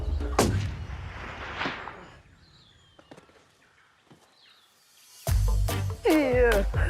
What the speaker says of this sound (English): Heard the gunfire.